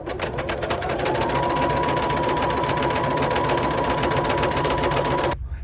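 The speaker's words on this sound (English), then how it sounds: "I find with just straight sewing these, strips, this fabric's not heavy" A sewing machine runs steadily, straight-stitching light quilting fabric strips. After a brief start, its fast, even motor whir stays loud and close, then stops abruptly near the end.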